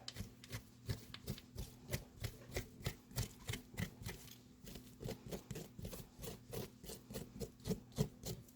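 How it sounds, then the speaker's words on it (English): Seeds are scooped out of a halved butternut squash with quick, rhythmic scraping strokes, soft and close, repeating at an even pace throughout with no talk. "we're just going to scoop out the seeds"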